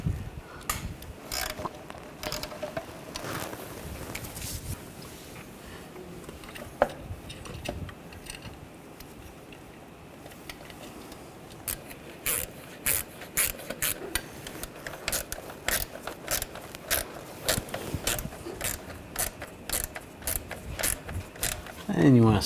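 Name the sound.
ratchet tightening throttle body bolts on VW Tiguan engine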